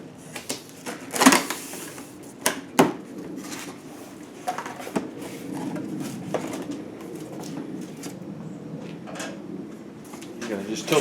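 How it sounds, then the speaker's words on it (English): A cardboard box holding Evolution cordless tools is sliced open by hand, giving a series of sharp scrapes, clicks and tearing bursts at irregular intervals, close and fairly quiet. "So I'm going to cut open this box."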